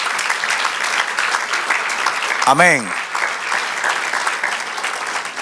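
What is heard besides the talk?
church congregation applauding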